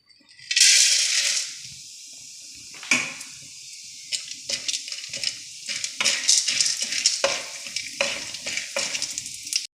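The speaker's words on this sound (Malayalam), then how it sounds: "പൊട്ടുകടല വറുക്കുന്നതിനാവശ്യമായ നെയ് ഒഴിച്ച് തിളച്ചിട്ടുണ്ട് നമുക്ക് പൊട്ടുകടല ഇട്ട് കൊടുക്കാം" A loud burst of sizzling as roasted gram hits hot ghee, followed by scraping stirs and clinks of a utensil against the pan, with crackling frying underneath.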